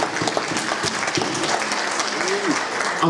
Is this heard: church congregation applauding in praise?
yes